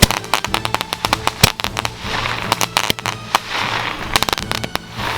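Iron Man and Sony brand firecrackers burst in a rapid, irregular string of loud sharp bangs and crackles, close and continuous for several seconds with short gaps.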